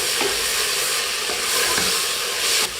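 Pea pulao frying in a pressure cooker as Kitchen King masala is stirred in, a steady bright sizzle with a few soft scrapes of the spoon against the pot, close and continuous.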